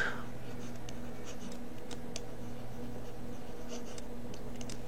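Chalk or marker scratches across a board during a business statistics class, a run of short strokes in quick bursts over a steady low room hum, no one speaking.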